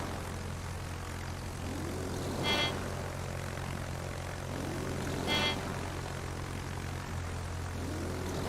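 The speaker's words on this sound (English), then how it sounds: "Fighter airborne." Fighter aircraft launching in the naval combat game World of Warships: two brief propeller-plane whooshes rise and fade a few seconds apart over a steady low engine drone, with no talking.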